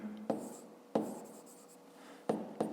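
Chalk or marker writing numbers on a board during a maths lesson: a few sharp taps and short scratchy strokes, close and clear, separated by pauses, with no talking over them.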